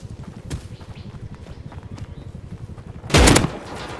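Gunfire in the survival game Rust, with a couple of faint distant shots over a steady rhythmic background of footsteps, then one loud, close blast near the end, with no talk.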